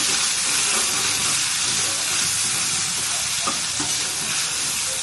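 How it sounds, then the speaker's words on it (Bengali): Prawns coated in salt and turmeric frying in a pan, giving a loud, dense hiss of hot oil throughout with a couple of faint clicks of stirring, no speech. "চিংড়ি মাছগুলো আগে ভেজে নিব খুবই সিম্পল একটা রান্না"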